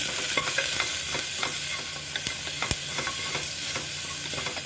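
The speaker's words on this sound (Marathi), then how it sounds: "पाच मिनटं आपल्याला कांद्याला मस्तपैकी लाल होऊसर ठेवायचं" Onions fry in a pan for spinach soup, a steady loud sizzle with occasional clinks of a stirring spoon against the pan, no voices.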